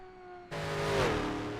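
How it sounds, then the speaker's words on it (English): A racing motorcycle engine at the Isle of Man time trial gives one sharp, loud throttle blip that rises and then settles into a sustained roar. "Huge blip of the throttle there"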